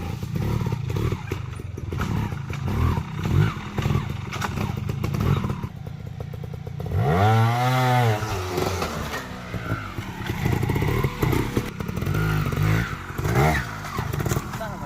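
Off-road motorbikes ride over large rocks, engines revving and straining in uneven bursts close by, with a clattering rise in pitch midway and people talking in the background.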